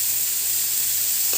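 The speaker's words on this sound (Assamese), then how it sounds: "মোৰ পিঁয়াজ আৰু বিলাহী ভাজা হৈ গৈছে" Onion and tomato frying in a pan give a soft, steady hiss with one brief stir near the end, all within a short moment.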